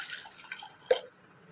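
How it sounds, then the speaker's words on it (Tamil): Water is poured into a cooking pan of tomatoes for sauce. A soft, brief splashing trickle ends in one sharper splash, fairly quiet and with no voices. "டொமேட்டோக்கு தேவையான அளவு மட்டும் தண்ணி ஊற்றினா போதும்"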